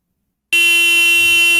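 A car horn sounded by a dog inside a car, played back from a clip: a sudden loud steady honk bursting out of silence and holding without a break, with no voices.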